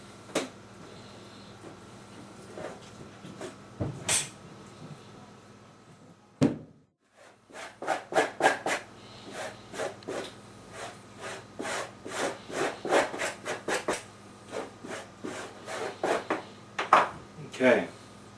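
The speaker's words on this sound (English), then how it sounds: "I'm going to use the flat of my knife for the edge and just kind of scrape it off" The flat of a knife scrapes animal sinew clean in repeated short rasping strokes, quiet at first and then a quick, uneven series of close scrapes after a brief pause, with no voice.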